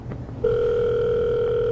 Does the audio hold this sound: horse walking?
no